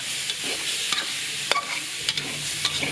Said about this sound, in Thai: ไม่ต้องใส่น้ำมันนะคะ ใส่เนื้อหมูลงไปดวนก่อนค่ะ